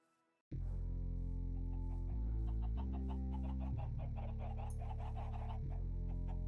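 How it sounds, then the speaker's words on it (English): Chickens clucking in the Minecraft video game, heard over steady game music that holds at a constant loudness, with short repeated bird calls scattered through the clip. "There's chickens everywhere."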